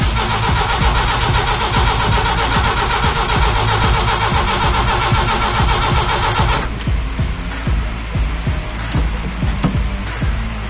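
A Jeep CJ engine cranks with a rapid, rhythmic starter chatter, then fires and runs. Its loud, uneven mid-pitched running sound continues to the end, with no talking.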